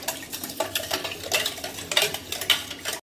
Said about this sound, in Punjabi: ਚੰਗੀ ਤਰ੍ਹਾਂ ਆਪਾਂ ਇਹਨੂੰ ਹਿਲਾ ਲਓ